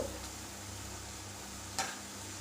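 Boondi for laddus frying in hot oil: a quiet, steady sizzle with faint crackling and one brief clink of a utensil, no talking.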